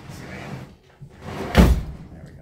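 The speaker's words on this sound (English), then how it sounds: "I know this door is starting to give us trouble." A troublesome door is worked open in a classroom, with muffled scraping and rattling building to a single loud thud or bang near the end, close by.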